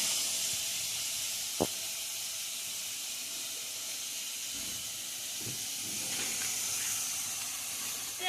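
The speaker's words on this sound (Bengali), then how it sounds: "এবারে আমি এই রসুন কোচানোটাও দিয়ে দিলাম।" Crushed and chopped garlic hisses softly in a pan over lowered gas while oats momo are cooked, a faint, even sizzle with a single sharp click early on.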